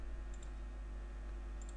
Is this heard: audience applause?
no